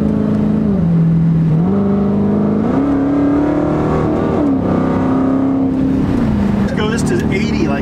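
A Dodge Hellcat accelerating at full throttle, its engine note loud and close from inside the cabin, rising and dipping with gear changes in a sustained roar throughout.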